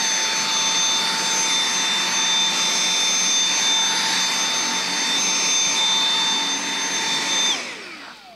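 A Dyson cordless stick vacuum cleaner runs with a loud, steady high-pitched whine and airy roar for several seconds, then switches off and winds down at the end, with no voices.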